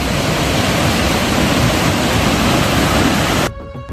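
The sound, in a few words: reservoir spillway gates releasing water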